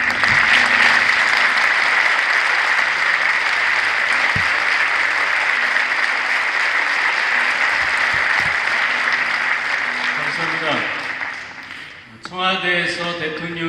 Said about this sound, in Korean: 한번 박수해 주시면 감사하겠습니다.